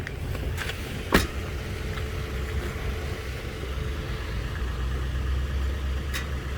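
A 2015 Nissan Xterra Pro-4X engine running at a dealer auction, a steady low idle rumble heard from nearby, with one brief click and no talk.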